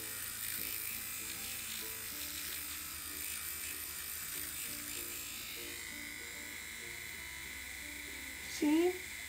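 An affordable pocket electric shaver hums steadily as it shaves facial hair, a continuous buzz running under quiet talking, with a brief louder burst near the end.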